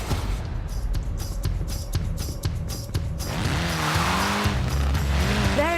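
A classic Mini rally car in Forza Horizon 4 drives hard, its engine droning steadily with repeated rising and falling revs between gear shifts, then squealing tyres as it slides through a corner, loud and continuous with no talk.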